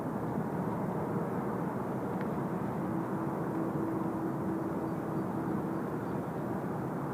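A steady, distant jet engine roar from an Air Incheon airliner spooling up for its takeoff roll at Seoul Incheon Airport, a continuous broadband rumble with a faint tone running through it and no talk over it.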